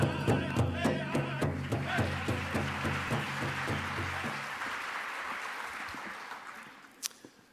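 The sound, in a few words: audience applause after a stage performance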